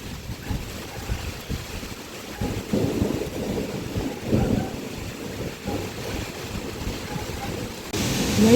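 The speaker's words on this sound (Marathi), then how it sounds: "किती जोरात पाऊस चालू झालेला आहे." Heavy monsoon rain pours down steadily in a loud, dense wash, with strong gusting wind roaring through and rising toward the end.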